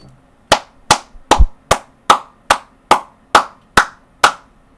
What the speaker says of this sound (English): I just had to give this kid a round of applause